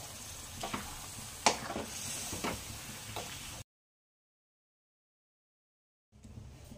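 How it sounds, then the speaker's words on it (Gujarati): Boiled bhaji being stirred into fried masala inside a pressure cooker for pav bhaji, soft scraping and sizzling strokes with a few sharper clinks, then a few seconds of dead silence before faint stirring resumes. "તો આપણે ભાજી એમાં લઈ લીધી છે, તો બધું આપણે મિક્સ કરી લેશું"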